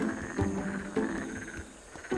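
Black-spotted pond frogs croak in a summer outdoor setting, giving a few low, fairly faint calls at irregular moments against a steady background hum.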